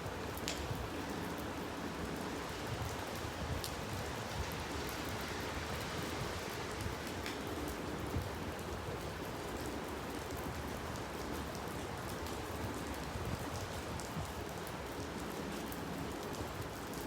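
Steady rain falling near an English level crossing, a continuous even hiss of drops with occasional sharper patters, fairly quiet and with no voices.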